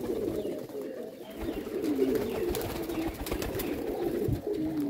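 Pigeons cooing on a rooftop, soft repeated throaty coos close by, layered over a steady outdoor background with light rustling.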